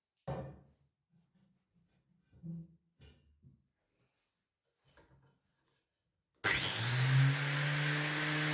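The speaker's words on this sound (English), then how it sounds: "He is so delicate with that angle grinder." An angle grinder starts up near the end and runs with a loud, steady whine, after a quiet stretch of scattered knocks and handling sounds while a bike repair stand is built.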